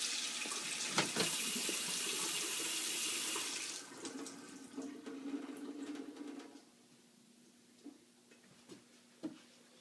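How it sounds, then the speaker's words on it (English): A kitchen faucet runs cold water fully open in a steady, fairly loud stream for several seconds, then cuts off, leaving a quiet room with a few scattered clicks and taps. "turning my cold water on all the way"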